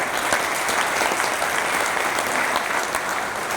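A live audience claps steadily and densely throughout, a continuous wash of applause with no voices standing out.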